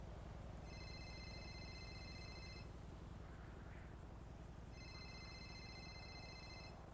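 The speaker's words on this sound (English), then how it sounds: "That's your phone, Twinkles." A phone rings in a GTA roleplay game, two electronic ringtone bursts separated by a pause, heard over a steady low background hum.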